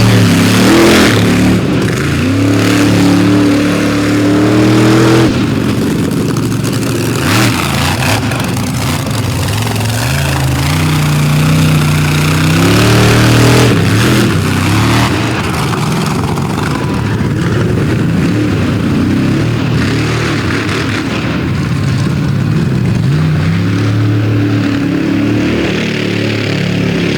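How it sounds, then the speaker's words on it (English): A monster truck engine at an outlaw drag race in Canfield, Ohio, roars and revs hard throughout, very loud and rough, with the revs surging up and down in uneven bursts. The engine is running poorly. "He was going to try to get into a donut there, but that engine is definitely not happy"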